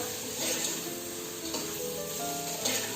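Vegetables seasoned with turmeric and salt sizzle steadily in a hot pan while being stirred, with soft scraping and clinks of the spoon throughout; no voices.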